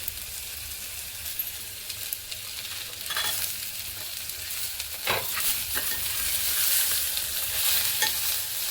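Turmeric and tomato fry in a pan for Maharashtrian masale bhat, a continuous sizzle that swells louder toward the end, broken by a few sharp scrapes of a stirring spoon, with no talking.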